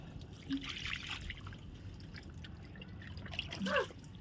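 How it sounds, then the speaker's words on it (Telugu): Liquid garden fertilizer poured from a mug onto plants, heard as faint trickling and dripping water outdoors with a few soft splashes and light background noise. "కలుపుకొని మనం ఒక్కొక్క మగ్గు మన చెట్లకి పోసుకుందామండి."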